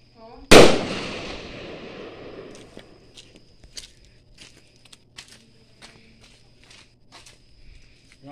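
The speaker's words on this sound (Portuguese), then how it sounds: "É uma bomba, Rafa." A firecracker bomb bursts with one sharp, loud blast at a São João bonfire, its crackling tail fading over a few seconds, followed by scattered faint pops and crackles from the fire outdoors.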